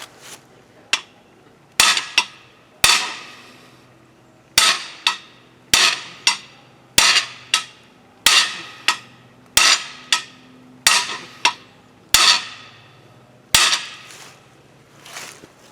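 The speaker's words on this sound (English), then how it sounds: "Went and got my 2-pound steel hammer." A 2-pound steel hammer strikes metal while knocking out a cam bearing, giving about sixteen sharp, ringing blows at an uneven pace with short pauses between them, close and loud with no talking.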